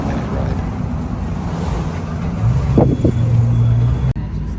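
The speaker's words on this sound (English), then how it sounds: "Here we're in a taxi along with a bunch of other people" Engine hum of a shared taxi packed with passengers on the road to Coki Beach, St. Thomas, a steady vehicle rumble with a brief rising whine near the end, then a sudden cut.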